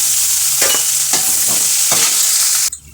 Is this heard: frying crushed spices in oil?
yes